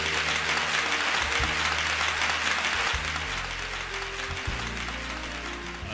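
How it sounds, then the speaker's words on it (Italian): A studio audience on an Italian TV show applauds, a dense steady clapping that holds throughout, with music faintly underneath. "Ecco, applauso."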